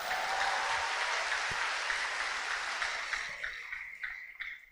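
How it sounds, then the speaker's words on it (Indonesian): University students applaud a finance minister's public lecture at Universitas Indonesia, a broad roomful of clapping that holds strongly, then thins into scattered final claps as it fades. "boleh juga tuh tepuk tangannya keren tuh"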